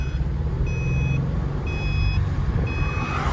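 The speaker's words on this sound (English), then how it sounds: "Luna, you're setting off the seatbelt thing because you're too fat. So now it's gonna beep at me the entire time." A Jeep YJ seatbelt warning beeps in three evenly spaced high tones over the steady rumble of the engine and road while driving.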